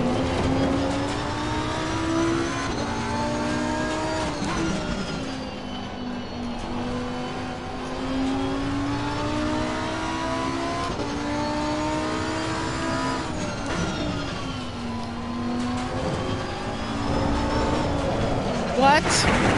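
A Lamborghini GT race car in Assetto Corsa Competizione revs hard through repeated rising and falling gear sweeps, with a steady engine drone and a brief tire squeal, under occasional talk.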